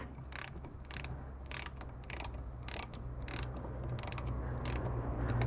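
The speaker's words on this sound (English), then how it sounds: "And take your handy dandy torque wrench." Torque wrench ratcheting while tightening bolts on a 1979 Fiat Spider transmission during a rebuild: a quiet series of short, crisp clicking bursts in a fairly even rhythm, close up with a low background hum.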